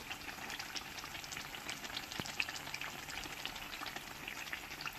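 Poa pitha, sweet oil-fried cakes, bubble and sizzle in hot oil, four at a time, with a steady close crackle and one sharp click partway through.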